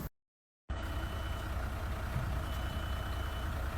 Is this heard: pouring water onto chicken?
no